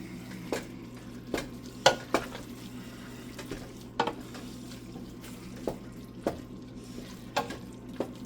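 Meat and roasted peppers cooking in a pan for baked ziti, with a steady sizzle underneath and regular scraping knocks of a spoon stirring, close by, about a dozen strokes at an even pace.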